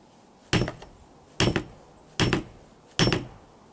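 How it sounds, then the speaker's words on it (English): Four sharp, solid hammer strikes on an awl driven into a snowshoe frame, spaced about a second apart, each ringing briefly against a quiet background. "I can just hammer that in place right there."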